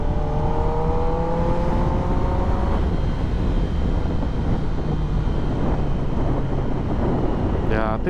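Kawasaki ZX10R motorcycle riding through a neighborhood, steady loud wind roar buffeting the microphone over a rising engine whine that fades after a few seconds, continuous throughout with brief talk.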